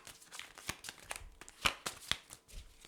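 Tarot cards being shuffled by hand, a rapid run of riffling flicks and soft slaps, close and moderately loud, with no talking.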